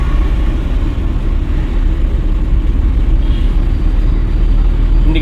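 Car accelerating at low speed during a beginner driving lesson, a steady broadband engine and road rumble that holds throughout with no talk over it.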